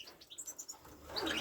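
Pet canaries in a breeding cage chirping, several quick bright tweets in a rhythmic burst followed by a busier flurry of calls, close by and fairly soft.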